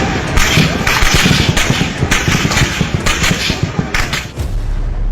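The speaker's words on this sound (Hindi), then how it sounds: "पाकिस्तानी फौज की अंधाधुंध फायरिंग" Indiscriminate gunfire by the Pakistani army in Pakistan-occupied Kashmir, a loud, dense barrage of overlapping shots and booms that barely lets up.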